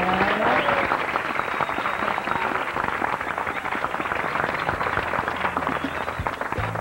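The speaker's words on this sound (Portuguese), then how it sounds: "Palmas para a Fernanda." Studio audience clapping on a youth programme on Brazilian TV, dense and steady applause filling the whole stretch at even loudness, with no voices over it.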